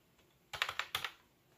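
Short burst of typing on a computer keyboard connected through a KVM switch: about five quick, distinct key clacks in two clusters, close and fairly crisp against a quiet background.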